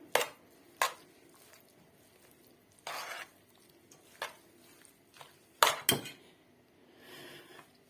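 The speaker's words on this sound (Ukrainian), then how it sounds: "Так, перемішую гарненько." A spoon stirs an instant noodle salad dressed with mayonnaise in a bowl, giving a quiet scrape and clink in irregular bursts with short pauses between strokes.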